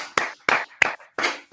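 Group hand clapping during a celebratory meditation gathering: four sharp, separate bursts of claps at an uneven pace, close and fairly loud, with no voices.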